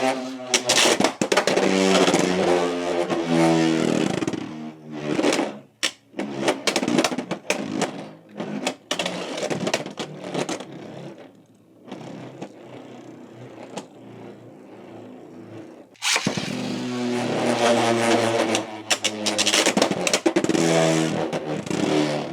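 A Beyblade CX-11 Emperor Might spinning top in a gold and black finish, launched and spinning, giving a loud buzzing, whirring drone that runs for several seconds, eases off mid-clip with scattered rattles, then surges again near the end.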